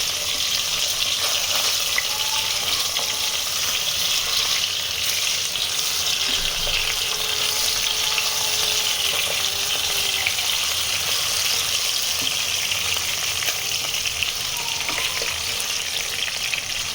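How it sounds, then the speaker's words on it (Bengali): Chicken nuggets and chicken fry frying in a pan with oil, giving a steady, dense sizzle that runs unbroken and fairly loud, close up, with no talking. "তো এখন বলতেছে ওকে একটু ভেজে দিতে, এটা এখন ওকে ভেজে দিব।"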